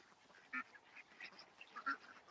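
A few excited duck quacks ring out, faint and sporadic, with two louder calls standing out against a quiet outdoor background.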